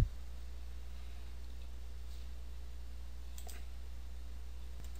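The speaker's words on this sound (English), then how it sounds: "go over here to the very right of the screen and right click" A computer mouse gives a faint right-click or two over a steady low electrical hum, with no talking.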